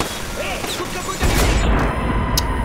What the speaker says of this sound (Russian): я опять же выстрелил в него три раза